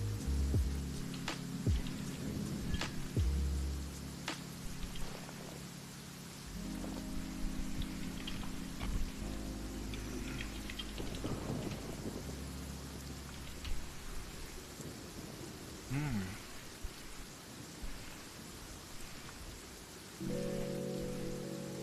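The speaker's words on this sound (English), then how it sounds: "Rain." Steady rain falls throughout with low rumbling thunder rolling in several times, a calm lo-fi setting with no one speaking.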